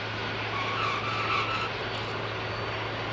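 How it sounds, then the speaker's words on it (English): Heavy Antonov An-225 cargo aircraft, a 600-ton jet on 32 tires, touching down: a steady, loud broadband roar of engines and rolling wheels with a low hum, no voices. "32 tires burn rubber every time this 600-ton behemoth touches down"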